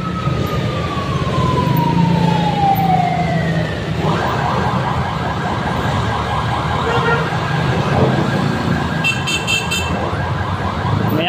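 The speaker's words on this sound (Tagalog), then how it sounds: "May ambulansya pa." An ambulance siren wails loudly along a busy street, first one falling sweep and then a steady rising-and-falling electronic wail over continuous traffic rumble, with a brief high warning tone near the end.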